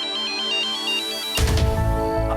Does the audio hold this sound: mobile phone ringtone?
yes